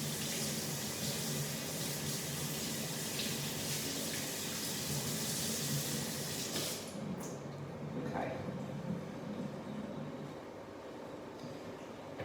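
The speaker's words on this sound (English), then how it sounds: "I'm just going to give my hands another wash" Hands being washed under a running kitchen tap, a steady close rush of water that cuts out partway through, leaving quieter room sound afterward.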